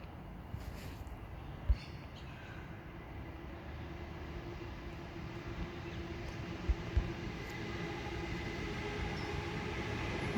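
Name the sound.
train passing Merrylands heading into the city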